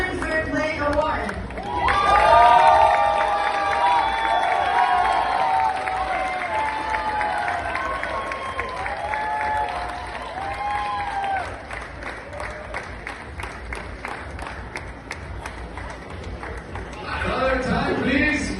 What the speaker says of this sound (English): A round of applause to Michelle Mann, who will take home the Women's Fair Play Award.